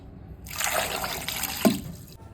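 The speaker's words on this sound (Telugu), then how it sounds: "బాయిల్ చేసుకోవడానికి సరిపడా వాటర్ పోసుకుందాం." Water pours steadily from a vessel onto halved potatoes in a pot being readied for boiling in a pressure cooker, a close, continuous splashing stream of about two seconds with no talk.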